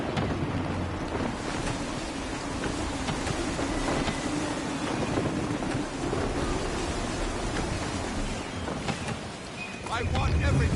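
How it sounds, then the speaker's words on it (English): Gusty wind over the open sea while sailing a ship in a video game, a steady roaring rush with surf-like swells throughout and a surge near the end, with faint game sounds and voices beneath. "Wind looks to be shifting. Stay alert, Connor. Gusty winds can be difficult to manage."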